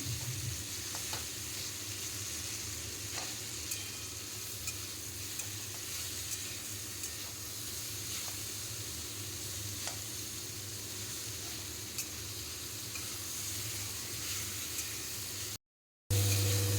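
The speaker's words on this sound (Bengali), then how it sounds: "খুন্তি দিয়ে চেপে চেপে দেখলাম যে সুন্দরভাবে কুমড়োটা কিন্তু ভাজা হয়ে গেছে" Pumpkin pieces frying in oil while a spatula presses them down, a steady loud hissing sizzle throughout with faint occasional clicks, cut by a brief gap near the end, no speech.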